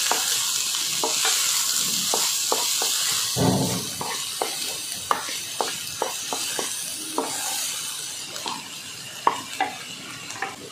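Sprouted matki mixed with chili crush is sautéed in a pan, a steady sizzle and hiss under repeated sharp scrapes and clicks of a spoon stirring against the metal, close and continuous with no talking.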